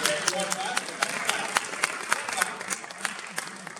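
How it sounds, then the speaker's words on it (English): Scattered clapping from an audience at a live variety show, with distinct individual claps rising over a continuous background of talk and crowd murmur. "okay, you can clap if you want"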